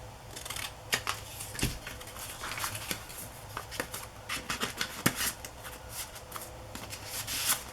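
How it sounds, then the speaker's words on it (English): Scissors trimming the bottom off a journal cover, a run of sharp irregular snips and paper rustles close to the microphone with no talking. "Now I know this guy's the right size, so I'm just gonna trim the bottom off"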